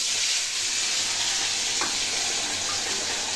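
Fish slipped into very hot oil in a wok sizzles loudly and steadily, a constant bright frying hiss with no talking.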